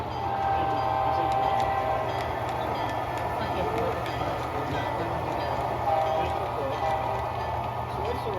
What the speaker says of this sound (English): you can run some pretty long trains as long as you are monitoring their speed so they don't run into one another